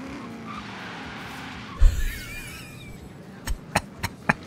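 A Land Rover Series III in the Forza Horizon 3 racing game strains to pull away in sixth gear, giving a low engine drone, a brief tyre skid and a few sharp clicks near the end, with no talking.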